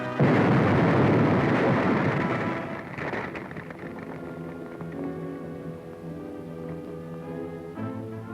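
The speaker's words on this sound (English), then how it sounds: "Then, a final explosive charge is set." Demolition charge detonating at a wartime fort in 1940, a loud booming blast that rolls into a long rumbling decay, fading under the narration score that follows.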